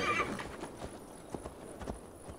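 Horse hooves clip-clop in the video game Assassin's Creed Valhalla as a horse whinnies briefly at the start, followed by scattered, fairly soft hoofbeats at a walking pace.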